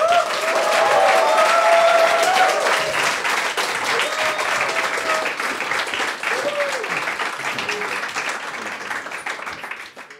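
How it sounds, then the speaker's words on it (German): An audience at a Jugend hackt Austria youth hackathon event gives a warm, sustained round of applause, dense steady clapping from many hands that gradually thins toward the end. "Einen herzlichen Applaus bitte für Elisabeth,"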